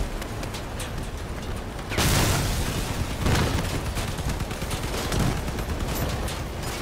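Gunfire in the combat vehicle game Crossout rattles in dense bursts, with a loud burst of shots and booming impacts partway through over constant engine and battle noise.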